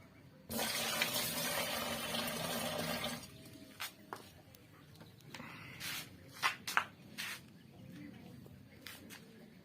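Five litres of water pour from a can into a herbicide sprayer pump, a loud continuous gush for about three seconds, followed by scattered knocks and handling sounds.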